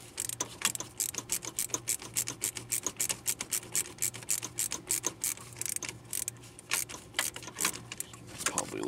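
A ratchet clicks rapidly in uneven bursts while loosening a radiator hose clamp during a Pontiac Aztek radiator replacement, sharp close ratcheting with brief pauses.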